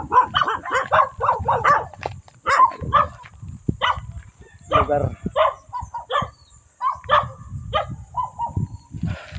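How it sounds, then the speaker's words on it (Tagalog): Several dogs bark in excited bursts in a neighborhood, sharp repeated woofs coming in quick clusters and then spaced out, fairly close, with a voice talking briefly among them. "bulabog ng mga aso"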